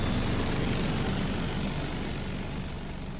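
Airliner jet engine in flight with its detached nose cone loose against the fan, heard as a dense, continuous roar of broadband noise with low rumble, steady and loud throughout without distinct rattles standing out.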